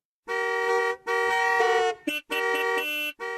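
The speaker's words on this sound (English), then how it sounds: "the taxi drivers were not to honk their horns from tomorrow" Taxi car horns honking in a Chinese city, loud sustained blasts held in long stretches with short gaps and a quick toot between them, close and insistent.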